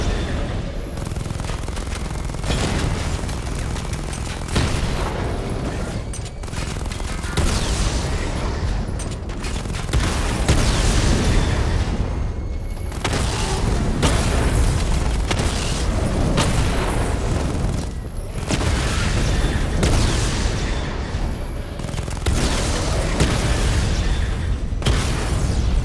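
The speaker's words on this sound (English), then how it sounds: "Destroy targets to charge up weapon energy and activate missile barrage." Missile barrage explosions in the Batman: Arkham Knight video game, heard as continuous loud booms and blasts with rapid gunfire-like bursts, dense and sustained throughout with no talking.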